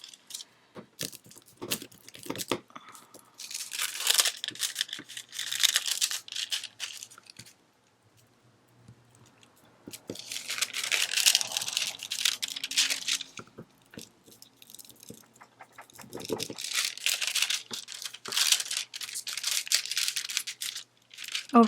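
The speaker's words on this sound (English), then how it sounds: "I'm going to cut this panel down" Scissors cutting down a foil panel in close, crinkly bursts of snipping and rustling, with a quiet pause in between.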